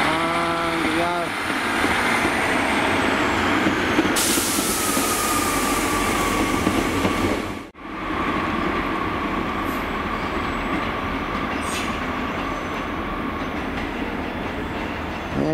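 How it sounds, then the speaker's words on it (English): Milford passenger train pulling away from platform 2 at Cardiff Central station, a steady loud rumble with wheel squeal and rail clatter, joined midway by a rising hiss and a brief dip before the rolling noise carries on. "there's the Milford train heading out from platform 2"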